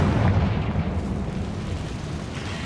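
A Confringo blasting spell explosion in Hogwarts Legacy, a broad rumbling boom that fades slowly over a couple of seconds, with no voices.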